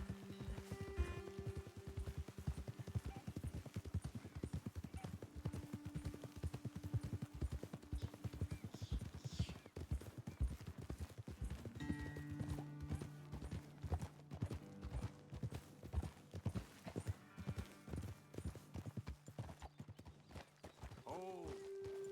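Horses walking in the Red Dead Redemption 2 video game, their hooves clip-clopping in a steady, continuous rhythm at moderate level, with occasional tack jingles and brief game voices over the hoofbeats.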